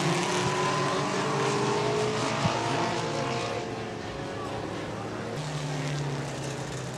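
Mini stock race cars circle a speedway oval in a 20-lap feature at Angola Motorsport Speedway, a steady blend of several engines droning and shifting pitch, fairly loud and continuous, with a slight dip midway.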